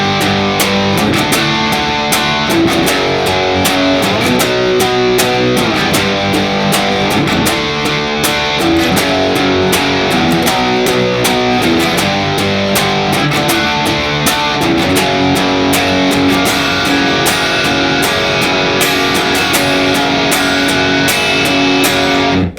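Guitar strums the full chorus of a song in a steady, driving rhythm, loud and continuous with no talking.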